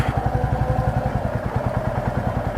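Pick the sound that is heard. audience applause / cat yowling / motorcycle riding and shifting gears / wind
motorcycle riding and shifting gears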